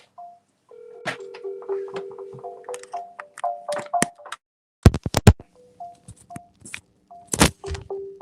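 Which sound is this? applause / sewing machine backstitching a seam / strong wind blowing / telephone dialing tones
telephone dialing tones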